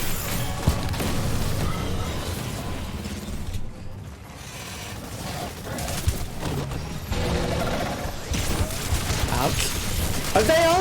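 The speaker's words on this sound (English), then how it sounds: "Oh, they are turrets." Rapid turret gunfire in the sci-fi dinosaur shooter Exoprimal, dense bursts with mechanical clatter running continuously under game sound and a talking voice.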